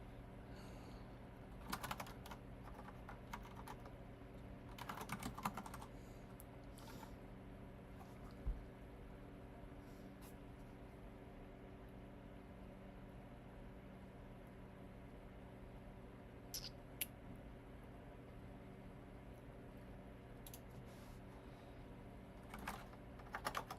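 Quiet typing on a computer keyboard during a coding session, sparse soft key clicks in short scattered bursts over a steady low background hum, with no speech.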